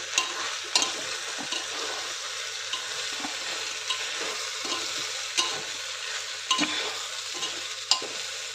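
Peas pulao ingredients being sautéed in a pan, giving a steady frying sizzle with scattered stirring scrapes and small clicks throughout, close and moderately loud with no talking.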